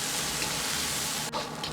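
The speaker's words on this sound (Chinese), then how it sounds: "油热后放入切好的豆角，保持中火炒出豆角里边多余的水分" Cut green beans stir-fry over medium heat in hot salad oil in a wok, a loud, close, continuous sizzle with a brief scrape of stirring near the end.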